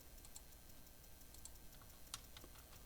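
Quiet, scattered clicks of typing on a computer keyboard, light keystrokes at an uneven pace with one sharper tap near the end.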